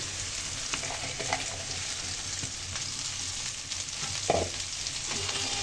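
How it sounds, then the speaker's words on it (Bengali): Okra, shrimp and onion frying together in a pan with green chillies, a steady close sizzle with occasional stirring scrapes and small spatters throughout, no talking. "পেঁয়াজ চিংড়ি মাছগুলো একটু নরম হয়ে আসলে এরপর ধুয়ে কুচিয়ে রাখা ভেন্ডিগুলো দিয়ে দেবো"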